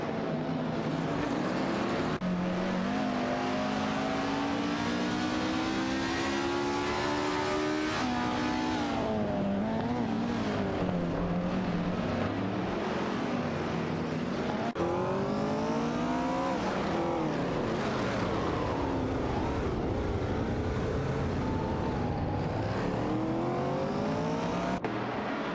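Race car engines in a racing video game, including a Porsche 906 and a Chinook MK2, roaring throughout with repeated rising and falling revs and gear changes as several cars pass, loud and continuous with no voices.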